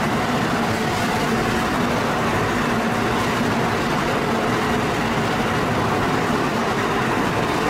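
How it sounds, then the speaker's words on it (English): A Japanese Shinkansen bullet train rushes by, producing a loud, steady roar with a low rumble, continuous and unbroken throughout, with no voices. "This is Japan's iconic bullet train, known for its punctuality and safety"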